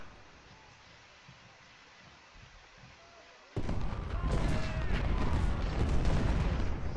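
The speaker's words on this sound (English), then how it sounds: "We're just kind of in an artillery duel here." Artillery exchange in the Ultimate General: Civil War strategy game during a Union river-crossing battle: after a quiet first half, a dense, loud barrage of overlapping booms and gunfire rolls in abruptly and continues steadily.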